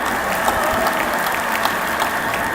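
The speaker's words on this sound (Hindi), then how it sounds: "एक बार हमारे प्रधानमंत्री जी के लिए तालियां बजाएं।" Steady audience applause at a live ICAI event, a dense, even patter of many hands clapping at moderate loudness for the whole stretch, with no voices over it.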